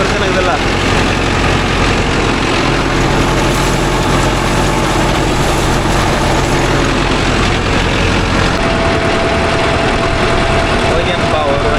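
A Mahindra Arjun Novo 605 DI tractor engine runs steadily and loudly throughout, a continuous low droning rumble with a faint tonal hum entering near the end, working a rotavator in a field.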